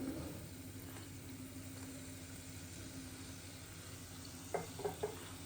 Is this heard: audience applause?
no